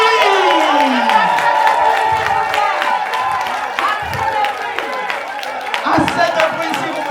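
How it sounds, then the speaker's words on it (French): An audience at a business conference in Benin applauds loudly and cheers throughout, with a voice talking over the clapping and crowd noise. "continuons d'applaudir très fort pour accueillir celui que j'ai nommé"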